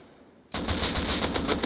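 Automatic weapon fire sprayed in a video game: a rapid, loud burst of evenly spaced shots that starts abruptly and runs unbroken to the end, with no talking over it.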